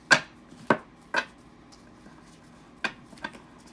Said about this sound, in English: I like to get a good shuffle.